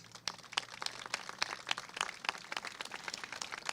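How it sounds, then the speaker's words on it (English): A modest crowd at a gun violence awareness press conference applauds honoured families, the scattered claps fairly soft and irregular, heard for a few seconds with no speech. "Please give them a round of applause"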